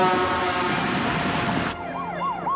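A blaring emergency vehicle siren from a 1993 British TV advert holds a harsh steady wail, then cuts to a rising-and-falling yelp that repeats in quick cycles, loud and close, with no talking.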